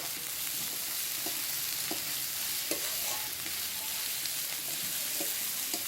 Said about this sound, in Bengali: এবার আমি এতে কেটে রাখা পেঁয়াজগুলো দিয়ে দেবো কুচানো পেঁয়াজ